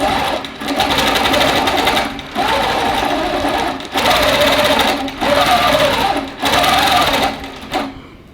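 A long arm quilting sewing machine stitches a June Tailor Pocket Shopper Tote as it is driven back and forth: loud, close bursts of rapid motor-driven stitching separated by brief pauses, with no talk.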